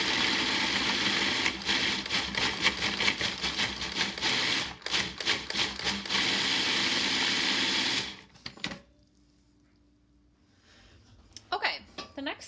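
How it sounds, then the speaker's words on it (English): A food processor chops leftover onion for a lasagna Bolognese, a loud, steady whirring buzz running for about eight seconds with brief pulses before cutting off to near silence, followed by a few faint kitchen clatters. "And then I'm going to go ahead and mix it in the food processor."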